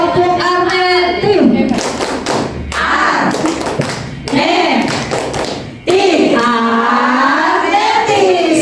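A group in an indoor school training session performs the Tepuk Arneti clapping chant, loud rhythmic claps and taps in bursts mixed with voices chanting together, close and energetic.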